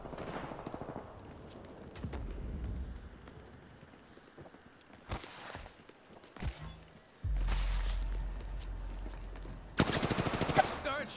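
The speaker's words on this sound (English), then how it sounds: "Shots fired, and they're hitting me." Bursts of video game gunfire crack out in separate volleys amid game sounds, some loud and rapid, with quieter gaps between them.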